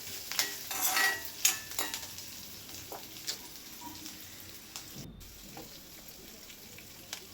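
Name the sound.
onions and green chillies frying in a pan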